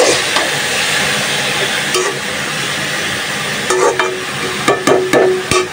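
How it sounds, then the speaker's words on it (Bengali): Taro (kochu) bhaji frying in a pan gives a steady broadband sizzle, with soft stirring scrapes and a few sharper clinks of a utensil against the pan near the end. "আস্তে আস্তে ভাজিটা করে নিই।"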